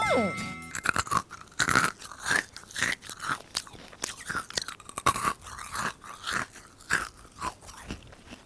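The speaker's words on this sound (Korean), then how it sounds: "이거 씹는 맛도 굉장히 재밌고 맛도 좋고" Crunchy freeze-dried candy from a convenience store is chewed close to the mouth: repeated sharp crunches and bites in an irregular rhythm, loud and dry, with no speech.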